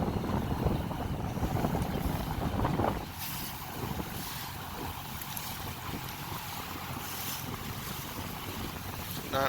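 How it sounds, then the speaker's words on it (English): A 1965 17-foot Boston Whaler moves through fast water, mostly drifting, with rushing water and heavy wind buffeting the microphone. The noise is loud at first, then drops to a quieter, steady wash. "Wow, this is ripping in here. We're going 6 knots."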